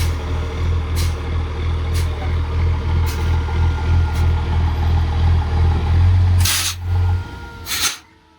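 A 1964 C60 truck swapped with a 12-valve Cummins diesel, carrying a Holmes 600 wrecker, idles and creeps with a steady low rumble, periodic hisses, then a sharp air-brake blast as the engine note drops near the end.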